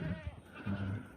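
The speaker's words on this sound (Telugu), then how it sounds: "సో గాయ్స్ చూడరు ఎన్ని మేకలు ఉన్నాయి" Goats bleating on a farm, a couple of short nasal calls within about a second, close but fairly quiet.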